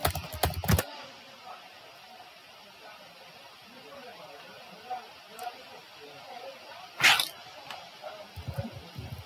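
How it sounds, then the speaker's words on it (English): Computer keyboard typing a terminal command on a Linux Mint machine, quiet scattered key clicks with a louder burst partway through, and a voice speaking around it. "First off, open terminal. And let's type sudo"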